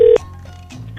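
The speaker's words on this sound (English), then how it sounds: "So let's call David and see what David has to say" Phone number dialed on a telephone: a loud steady keypad tone cuts off, then faint dial and line tones follow, with no voices.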